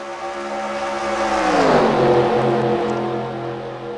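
Stock cars racing on the Daytona oval in the NR2003 sim, a loud pack of engines droning with a pitch that sweeps down as cars pass close, swelling mid-clip then holding steady.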